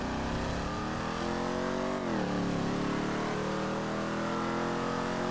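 Sports car engine in GTA 5, a 350R, revving loudly and continuously, the pitch dropping sharply as it shifts and then climbing again, close and alone.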